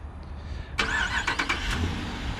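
The engine of a 2014 Jeep Grand Cherokee Summit cranks and catches, with a sharp rise in sound partway in followed by a few quick surges before settling into a steady idle, heard from close by.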